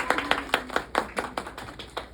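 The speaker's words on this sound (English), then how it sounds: "Give a big round of applause." A small audience claps at an author event welcoming a young adult fantasy writer, sparse, individual hand claps landing in an uneven rhythm over about two seconds, close and moderately loud with no talking.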